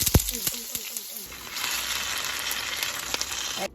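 Cooking oil sizzles and crackles in a pan while a chicken curry is being made, with a few clicks and knocks at the start before a steady hiss builds and continues.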